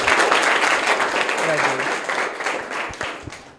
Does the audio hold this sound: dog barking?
no